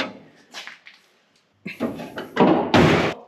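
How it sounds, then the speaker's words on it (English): Hand-built car door opening mechanism worked in a garage: a few light clicks and rattles, a pause, then louder metallic clunks and a final solid thunk, close and alone. "Door opening mechanism in place."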